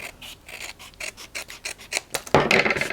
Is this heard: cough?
no